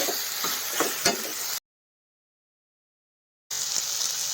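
Spices and tomato frying in a pan for Karnataka-style holige sambar, a close steady sizzle with a few stirring scrapes, broken by a gap of silence before the sizzling resumes.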